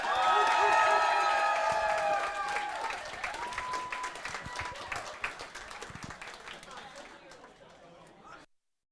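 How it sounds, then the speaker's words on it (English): An audience applauds and cheers at a World of Warcraft community event in London, loud at first and then tapering off over several seconds, with chatter and talk mixed in. "Let's give him a round of applause, ladies and gents."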